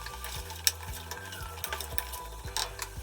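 Cauliflower fries with cumin and fennel seeds in a pan for vegetable pulao, a constant close sizzle with quick crackles and the rhythmic knock of a spoon stirring.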